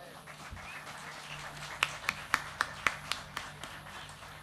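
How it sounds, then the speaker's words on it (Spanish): A handful of sharp, isolated claps ring out at a concert at Sabores del Litoral, as a balada is about to begin; about eight distinct, evenly spaced claps over a quiet background, sparse rather than a full ovation. "Un aplauso para él."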